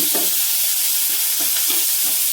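Onion and tomato frying in oil in a pan, a continuous bright sizzle with a few soft scraping stirs of the spatula, close and steady with no talking.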